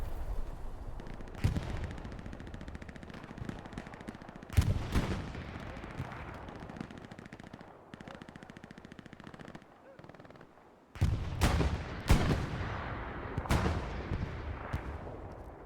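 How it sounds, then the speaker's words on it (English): Tank and machine-gun fire in the World War II shooter Hell Let Loose during a competitive match, with heavy cannon blasts at intervals over steady rattling bursts, loud and near, under quiet commentary. "that's a fairly nice shooting here by this tank crew here, led by Bodoque."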